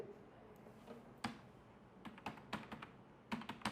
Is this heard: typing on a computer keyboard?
yes